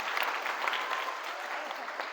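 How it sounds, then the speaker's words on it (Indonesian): An audience at a public speaking seminar at a Jakarta vocational school claps, a dense, steady burst of applause from a crowd lasting a couple of seconds. "Tepuk tangan dong buat kakak kita hari ini."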